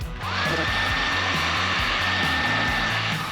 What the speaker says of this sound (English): Now let's do a little heat shrink, and we'll consider this